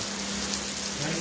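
Dense, steady rainfall hisses across the whole clip, a continuous heavy downpour with no voices.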